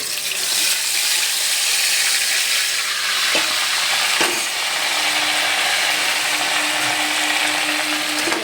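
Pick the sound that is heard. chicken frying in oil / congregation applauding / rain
chicken frying in oil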